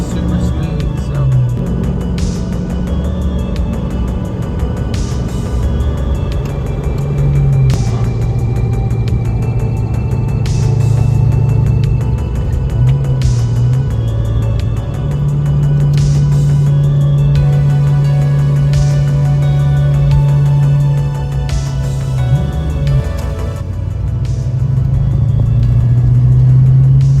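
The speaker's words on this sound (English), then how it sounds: "out here driving the car" A car drives smoothly with the air conditioning running after a leak repair. The engine hums steadily up close, and its pitch rises and falls with gentle acceleration while faint clicks and road rumble sit underneath.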